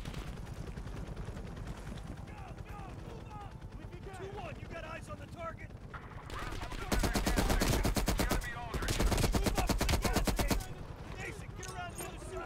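Light machine gun fire in Call of Duty: Black Ops Cold War, two long sustained automatic bursts of rapid shots in the second half, loud and close, with game ambience and voices running beneath.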